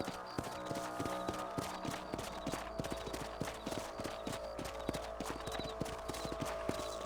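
Horse hooves clip-clop steadily and quickly on the ground as a rider travels across a ranch property in Red Dead Redemption, with a constant rhythmic beat over low background ambience.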